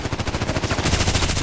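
Rapid gunfire from the video game Contract Wars, a sniper rifle among the shots, crackling in a fast repeating burst of close, loud reports that grows denser near the end.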